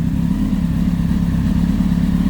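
A Kawasaki ZX10R motorcycle engine runs at a steady idle after a gearbox rebuild, giving a close, even, low rumble with no revving and no voices.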